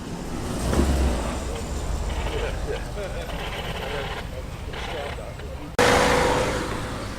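Rolls-Royce Silver Spirit arriving at a classic car show at Thoresby Park, a soft engine rumble rolling steadily past amid outdoor crowd noise, with voices talking nearby.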